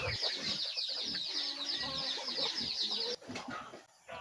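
Chickens cluck and chatter continuously nearby, a busy overlapping flock with a brief dip in the noise near the end.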